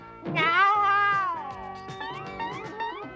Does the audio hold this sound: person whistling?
no